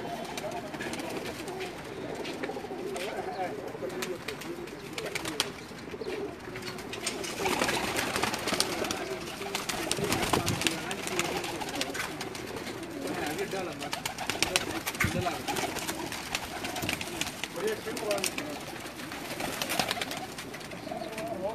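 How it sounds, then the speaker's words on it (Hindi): Pigeons kept on a rooftop in Jeddah, Saudi Arabia, coo softly and continuously amid rustling, flapping and faint background noise, with someone talking quietly at times. "ये जो छत पे कबूतर छोड़े हुए हैं वो दिखा रहा हूँ"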